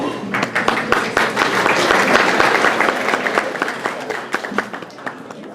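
Audience applause at a Grimsby Chamber all-candidates election meeting, brisk close-up clapping that builds to a dense peak and then thins into scattered claps as it fades.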